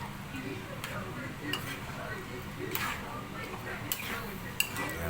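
A spoon stirring menudo in a cooking pot, with periodic scraping and metallic clinks over a steady background, and a soft bubbling sound underneath.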